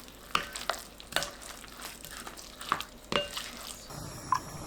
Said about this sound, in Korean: 계란 2개, 물 150ml 넣고 반죽합니다